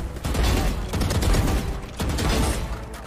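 Rapid bursts of gunfire from a video game pour out in a loud, dense fusillade that runs continuously for about three seconds.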